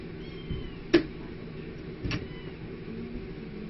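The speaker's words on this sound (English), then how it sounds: "They're all good kitties." Several cats at a cat rescue give two short meows about a second apart, fairly faint against a low background hum.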